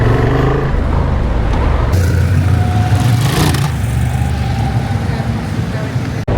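A motorcycle engine pulls away at slow speed with a slightly lumpy throttle, a loud continuous rumble that rises gradually, mixed with wind noise throughout.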